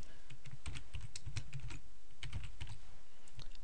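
Typing on a computer keyboard while entering a name in a website setup form, a near, quick run of clicking keystrokes in short bursts with a brief pause, no talking.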